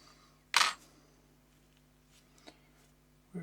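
Small screws are fitted into an Olympus Auto-S 38mm f/1.8 camera lens during a close bench repair: one sharp metallic click, then a faint tick and a soft final tap over a quiet background hum.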